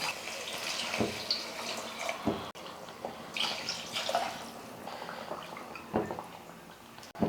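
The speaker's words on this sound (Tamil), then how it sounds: "இப்போ நம்ம தண்ணி சேர்த்துக்கலாம்" Water pours and splashes into a cooking pot in uneven gushes, with occasional knocks and clinks, fairly close, while making mint rice.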